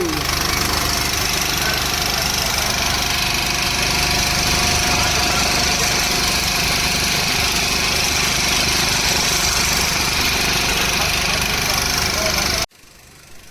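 A motorboat engine drones loud and close at Omkareshwar, a steady unbroken roar that runs without a pause and then cuts off abruptly near the end.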